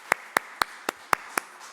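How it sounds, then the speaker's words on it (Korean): Six sharp, evenly spaced claps, fairly close and quiet, from a church congregation during a Wednesday worship service, with no talking over them. "하나님께 영광의 박수 올려드립니다"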